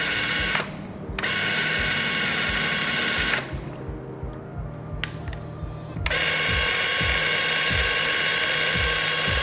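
A loud, steady mechanical motor drone from a Graco Ultra handheld paint sprayer, with a fast rhythmic pulsing, briefly dipping in tone twice before surging back up; no voices.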